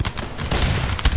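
A volley of musket fire from a line of troops in the strategy game Empire: Total War, heard as a ragged cluster of sharp, loud reports in close succession, with no talk over it.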